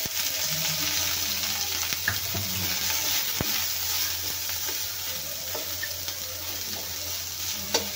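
Onion fries in half a spoon of oil with a close, continuous sizzle, while occasional stirring scrapes and a few small clicks sound over it and nobody speaks.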